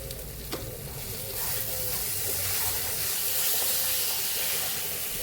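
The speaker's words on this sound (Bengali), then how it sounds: "এবারে দিয়ে দিচ্ছি বাটি ধোয়া জলটা, মশলাটা যাতে পুড়ে না যায়।" Spices sizzling loudly in a frying pan as bowl-rinsing water is poured in, with chili powder among them for a Bengali pui saag dish; a steady hissing fry with a stirring clatter near the start.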